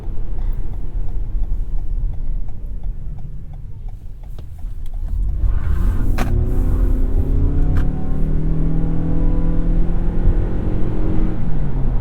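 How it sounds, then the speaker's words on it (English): A 2021 Toyota RAV4 Prime in sport mode accelerating hard with its gas engine and electric motors together, a steady low drone that rises into a climbing whir and rising engine tones over several seconds, heard from inside the cabin. "You throw it into sport mode, you get both the gas motor and the electric motors whirring up, and this thing will pull."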